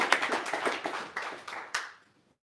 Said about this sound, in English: let's give it a clap.